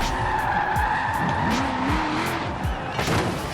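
In Forza Horizon 4, a car on the handbrake with the clutch not pressed skids hard, loud tire squeal over a revving engine whose pitch sweeps and wavers, with brief shifting clatter.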